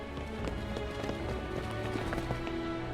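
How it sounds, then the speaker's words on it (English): Quick running footsteps of a character fleeing through a back alley in the Soul Calibur 6 video game, a rapid, even patter of light steps over a sustained game backdrop. "The footsteps lead here."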